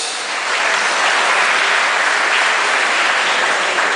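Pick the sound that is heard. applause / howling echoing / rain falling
applause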